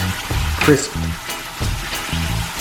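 Breadfruit or plantain slices frying in very hot oil give a steady close sizzle, with a few pieces being turned over and low rumbling handling sounds beneath.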